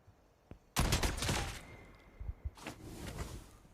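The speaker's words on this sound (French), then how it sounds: "là déjà on commence avec le bruit du phénix quand il meurt" A mythic JAK-12 shotgun's phoenix death kill effect in a video game: a sudden loud fiery whoosh with crackling bursts that fades out, followed by softer game effects and a few thumps.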